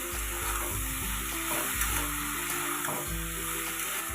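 A fish head and bottle gourd curry with Katla carp head is stirred in a hot pan, loud steady sizzling broken by a few scraping strokes of the spoon against the pan.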